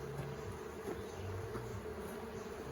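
Honey bees buzzing in a dense, continuous drone around an open hive during an inspection, close and steady throughout with no talking.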